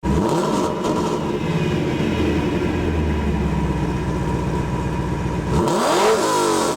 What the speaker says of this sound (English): It's got a 350 horsepower V8 pulled from Chevrolet,